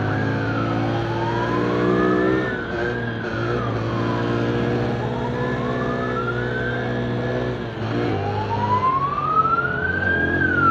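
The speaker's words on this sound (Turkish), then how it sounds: "Ambulans geliyor herhalde." A loud ambulance siren wails in rising and falling sweeps, close by on the road, with engine rumble beneath as it passes.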